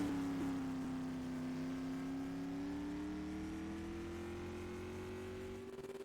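A sprint car engine at Oswego Speedway during non-wing time trials holds a loud steady drone whose pitch climbs slowly as the car runs the track, with no voices over it.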